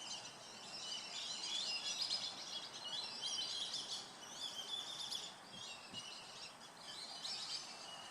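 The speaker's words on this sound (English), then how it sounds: "Really, birds? Like, right now is when you decide to squawk." Birds chirp and squawk outdoors, heard as steady high calls that go on throughout, moderately loud against a soft background hiss, with no talk.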